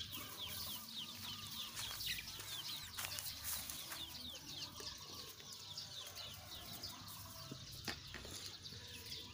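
Native black-tailed Pradu chickens cluck in a dense, steady chorus around a chicken rest area in a jujube orchard, with scattered wing flaps and busy chirping throughout.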